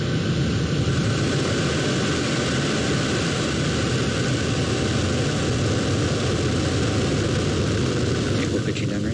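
Rocket engines roar at a Starlink launch liftoff, a dense, continuous rumbling blast heard from a distance, steady in loudness for the whole stretch.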